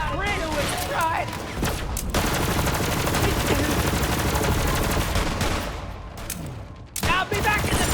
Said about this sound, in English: Some of these are warning shots.